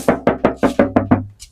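Seven firm knocks on the sound-deadened fender wall of a Toyota Innova Zenix Hybrid, evenly spaced and close, each giving a dull, damped thud with no talking.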